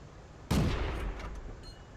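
A light tank's cannon in a tank video game fires one shell, a single sharp, loud blast that rings out and then rumbles away over about a second and a half.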